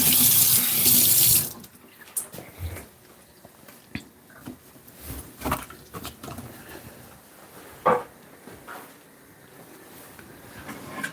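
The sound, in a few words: washing hands under running tap water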